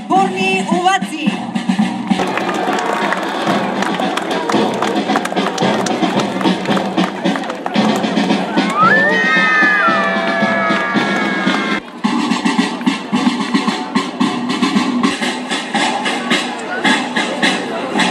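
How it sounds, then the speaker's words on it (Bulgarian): At a school opening ceremony in Burgas, a crowd greets the arriving flag with sustained, dense applause and cheering. Brief voices and whistle-like tones rise over the clapping. "Знамето се посреща с бурни овации."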